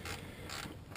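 A 10mm socket ratchet loosens the bracket bolt on a Cobb air box, giving a close, steady run of quick metallic clicks from the pawl with no talking.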